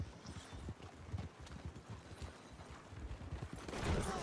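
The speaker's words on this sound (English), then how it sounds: "They're on a horse and cart." Steady, fairly quiet clip-clop of hooves from a horse and cart in the video game Red Dead Redemption 2. The hoofbeats go on alone, and a louder burst comes at the very end.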